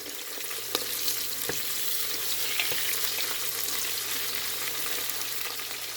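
Cinnamon, cloves, curry leaves and other whole spices sauté in oil for crab biryani, producing a soft continuous frying crackle with a few sharp taps of stirring, close but fairly quiet, with no talking.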